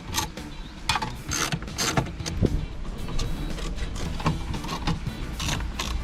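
A 10mm ratchet works bolts holding an aftermarket head unit in a Toyota Celica dash, a steady close clicking of the pawl in quick bursts with faint rattles from the trim, and no talk.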